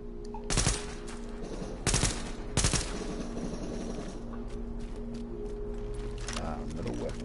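Three loud, sharp bursts of gunfire ring out at a shooting range in a video game, spaced about a second apart, then fade into a steady background hum with faint game ambience.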